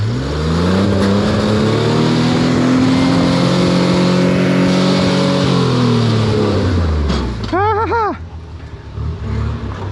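Off-road rig on 37-inch tires climbing a steep slope, its engine loud and close, revving hard and holding a strained, rising pitch before easing off, with a voice speaking over it near the end.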